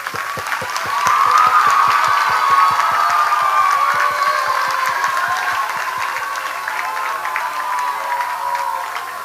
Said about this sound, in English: let's thank the thunderous round of applause for our building rock stars, our students